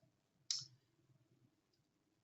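One crisp, quiet computer mouse click sounds during work in dental design software, isolated against near silence.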